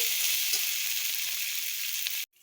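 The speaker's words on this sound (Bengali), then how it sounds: "এবার আমি ফুলকপিগুলো দিয়ে দিব দিয়ে এটা দিয়েও আমি একটু কষিয়ে নেব ভালো করে" Cauliflower florets frying with rice and potatoes in a pan give off a loud, continuous hiss and sizzle that holds steady, then cuts off abruptly at the end.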